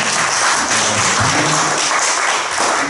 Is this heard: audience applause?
yes